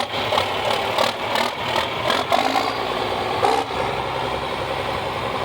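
A John Deere 4020 tractor engine runs loud and close at a small farm festival with a tractor pull in Viking, Minnesota, a steady mid-pitched drone with light rattles and no talk.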